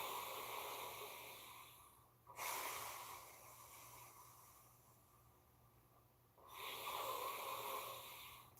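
Slow, controlled exhalations through pursed lips during a breathwork exercise: two long breathy hisses separated by a quiet pause, close and soft, with no talk.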